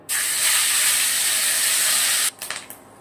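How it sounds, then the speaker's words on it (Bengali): Five-spice seeds dropped into hot oil burst into a loud, close, continuous sizzle that holds steady for about two seconds, then cuts off into a few softer crackles and clinks. "তেল গরম হয়ে গেছে, দিয়ে দেব 5 ফোড়ন"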